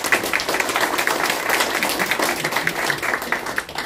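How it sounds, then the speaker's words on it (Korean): A forum crowd in Korea claps loudly and close, a dense burst of many hands with slightly uneven, rippling peaks throughout, no speech over it. "다시 한번 큰 박수 주세요"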